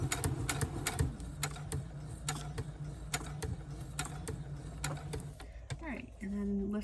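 A sewing machine running a straight stitch, its needle tapping in a quick, steady mechanical rhythm with short stops, close and moderately loud, followed by a brief rustle at the end.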